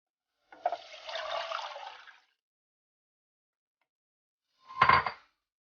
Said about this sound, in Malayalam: ആ പുളി വെള്ളം പിഴിഞ്ഞെടുത്തത് ഇതിലോട്ട്